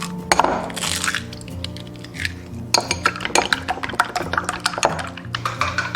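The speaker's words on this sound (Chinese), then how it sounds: "接着碗中打入2个鸡蛋搅散" Eggs are cracked into a bowl and beaten, giving sharp cracks followed by quick, rhythmic clinking of utensil against the bowl, close and alone.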